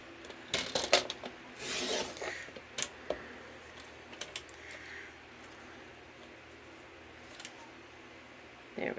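A paper trimmer slices through paper in a few quick rasping strokes clustered early on, followed by faint scattered rustles and taps against a quiet room background.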